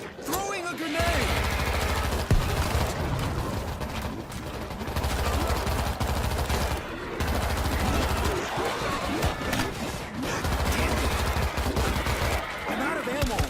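Dense automatic gunfire in the zombie shooter World War Z, loud bursts firing in repeated long stretches with short gaps, under shouted voices.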